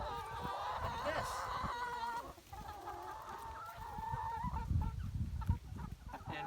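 Farm chickens clucking and squawking in a flock, with a busy overlapping chorus of calls, close and fairly loud, punctuated by a few sharper honk-like cries.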